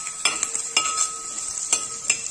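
A spoon stirs okra stir fry with dried red chillies in a pan for Kerala vendakka mezhukkupuratti, giving several sharp scraping strokes over a faint, steady sizzle.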